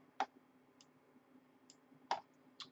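A computer mouse clicks sharply a few times: a crisp click, a lone tick, then a quick double click followed by one more, close and distinct over a quiet low hum.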